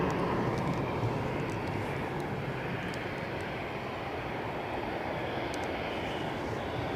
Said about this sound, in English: EasyJet to Belfast is the next departure.